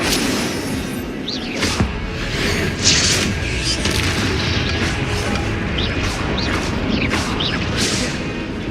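Fire spell cast repeatedly during a Hogwarts Legacy fight, with bursting whooshes and booms every second or so over a loud, busy battle backdrop.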